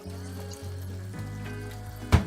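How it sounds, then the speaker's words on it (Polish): Broth poured into a pot of simmering meat and vegetables, a soft bubbling simmer with low humming tones, ending in a brief louder splash and sizzle of liquid hitting the pan. "Troszkę może jeszcze rosołku dolą."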